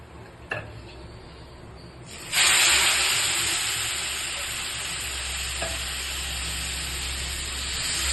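Hot water is poured into roasted vermicelli in a pan while making semiya kesari. There is a small tap early, then a sudden loud burst of hissing, sizzling steam that stays strong and slowly eases off, with no talking.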